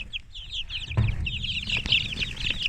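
Young incubator-hatched chickens in a flock of 24, a busy chorus of high-pitched overlapping cheeps and peeps close by, with a few low thumps underneath.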